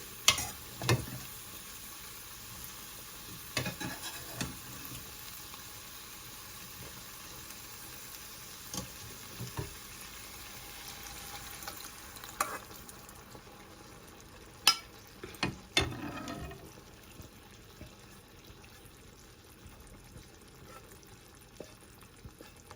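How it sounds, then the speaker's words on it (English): Cooked bottle gourd (lauki) stirred into chana dal in a pot, heard as a faint sizzle with intermittent scraping and knocking of a spoon, quiet and without talk. "now I'm going to add this cooked Lauki with the dal"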